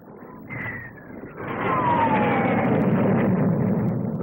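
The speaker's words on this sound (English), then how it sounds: "The Gloucester Javelin all-weather fighter, powered by two Armstrong Siddeley Sapphire turbojet engines." A Gloster Javelin all-weather fighter with two Armstrong Siddeley Sapphire turbojets passes at the 1957 Farnborough air display, a steady roaring jet rush that swells after a second and holds loud with a shifting whine.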